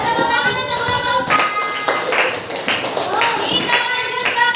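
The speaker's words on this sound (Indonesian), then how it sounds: "Tepuk tangan untuk kelompok" Schoolchildren in a classroom clap rhythmically together in a patterned group clap for a class group, loud and close, with voices mixed in.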